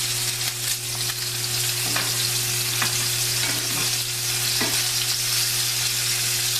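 Lollipop lamb chops in a sugary glaze fry in a pan over lower heat with a steady, close sizzle and a constant hum beneath, and a few faint clicks from the pan.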